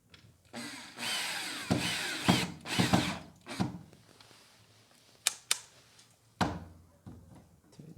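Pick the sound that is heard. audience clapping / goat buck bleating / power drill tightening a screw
power drill tightening a screw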